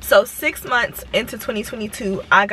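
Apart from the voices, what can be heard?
No distinct noise like a dog, phone or traffic.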